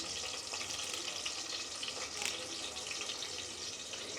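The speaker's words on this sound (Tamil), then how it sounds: "நம்ம வந்து ஒரு கொத்து கருவேப்பிலை போட்டுக்கலாம்" Curry leaves and small shallots fry in hot oil for a village-style mutton gravy, giving a steady, close, even crackling sizzle that runs unbroken throughout with no voices.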